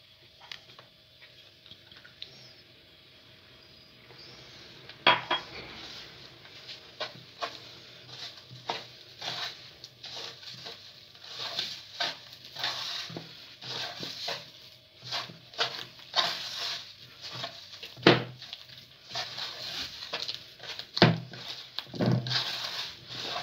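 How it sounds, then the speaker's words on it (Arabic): Butter being stirred with a glass of sugar for a cornstarch cookie dough, soft irregular scraping and patting strokes at close range that repeat unevenly and grow busier as the mixing goes on, with no talking. "درت الزبدة ديالي، غنزيد عليها كاس السكر كلاصي،"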